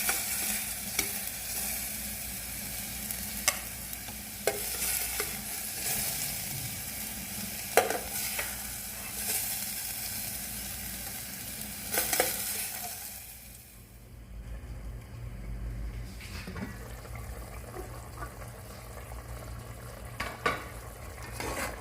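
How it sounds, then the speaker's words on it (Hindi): Carrots sizzle steadily in a frying pan while being stirred, with repeated scraping strokes of the spoon, preparing for an Afghani mutton pulao; the frying hiss dims partway through and continues quietly, no talking. "हमारी गाजरें फ्राई हो गई हैं, अब हम ये निकाल लेते हैं।"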